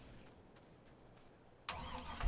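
A truck engine in Farming Simulator 22 cranks and starts abruptly after a quiet stretch, settling into a close, rising idle rumble near the end.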